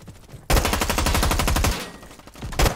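Machine gun fire in a video game: one loud, continuous rapid burst lasting over a second, followed by a couple of separate closer shots.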